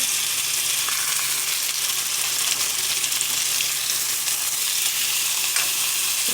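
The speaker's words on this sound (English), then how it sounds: "We're just going to let that sear, get a little brown, and then flip." A flipped steak searing hard in a hot pan, giving a loud, continuous hiss and crackle of fat that holds steady the whole time with no voices.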